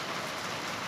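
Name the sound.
rain falling outside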